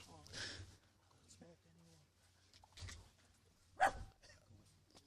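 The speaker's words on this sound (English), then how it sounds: "That dog still in the vicinity." Dog barking somewhere around an outdoor cricket ground during a T20 match, a few brief barks heard at moderate distance under continuous commentary and light background noise.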